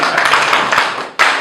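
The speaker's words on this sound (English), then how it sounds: "Clap for him." Audience applause for a speaker at an event with State House officials in Ankole: dense, steady clapping from many hands, loud and close, with a brief dip before it surges again.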